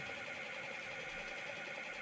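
An AutoAqua dosing pump's low-liquid alarm sounds as a steady, continuous electronic tone, holding unbroken and even for the whole stretch with no talk.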